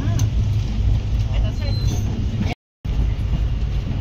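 Continuous low rumble and rattle of a moving train heard from on board, with voices mixed into the steady noise and a brief dropout midway.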